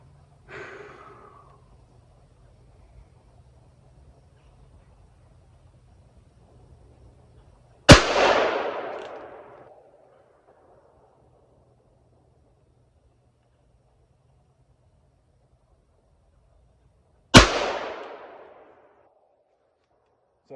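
.357 revolver topped with a red dot sight fires two loud, booming shots roughly ten seconds apart, each with a sharp crack and a rolling tail, after soft movement noise and quiet.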